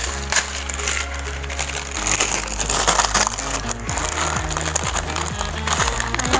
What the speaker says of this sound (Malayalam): നമുക്ക് നൂഡിൽസ് പൊട്ടിച്ച് അതിലേക്ക് ഇടണം.